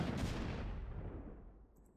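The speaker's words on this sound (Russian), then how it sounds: "это такая нифиговая артиллерия" A deep, rumbling blast of artillery fire in StarCraft, Protoss campaign, rolls out and slowly decays, heavy and booming, with no voices.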